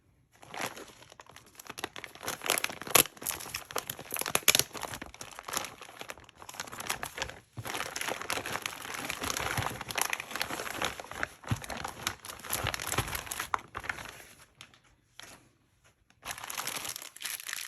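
A plastic parts bag from a Tamiya TT-02D drift chassis kit is crinkled and handled up close, with steady rustling crackles broken by short pauses and no talk.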